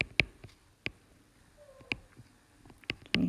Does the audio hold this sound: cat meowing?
yes